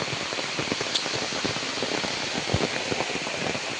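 Heavy rain pours down in a dense, even hiss, with scattered heavier drops tapping on nearby surfaces. The sound stays steady the whole time, and no one speaks.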